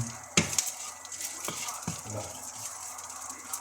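Dried anchovies sautéed and stirred in a pan, with a few scraping clinks of a utensil against the pan over a faint steady sizzle, close and quiet.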